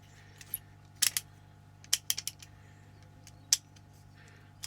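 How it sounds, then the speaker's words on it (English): A flea-market ratcheting screwdriver with a dry, worn mechanism gives a scattering of sharp, close clicks. Single snaps and quick clusters fall at irregular intervals over a quiet hum. "It's a ratcheting screwdriver that locks it in position. That enables ratcheting one way."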